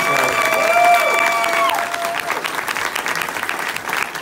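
Audience applause breaks out at a Fantastic Fest Q&A screening at the Alamo theater, steady clapping from a sizable crowd with faint cheering and a brief voice over it at the start.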